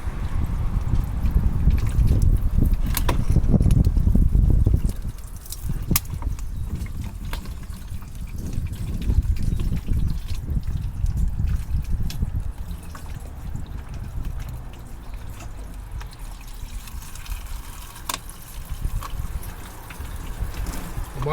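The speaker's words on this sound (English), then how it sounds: "all I'm going to do now is just drain the water that we've just flushed through" Flushed water draining out of a car engine cooling system, a steady gushing trickle that runs louder at first and then settles into an even, close splashing flow that lasts throughout.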